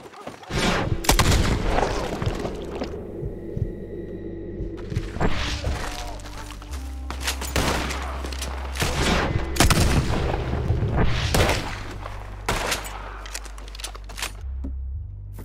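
Elephant rifle blasts ring out in Red Dead Redemption 2, a run of loud, booming gunshots spaced a second or two apart over about fifteen seconds, with shattering debris, echoing tails and low rumbling between them.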